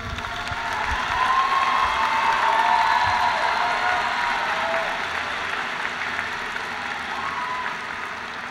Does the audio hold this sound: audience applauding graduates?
yes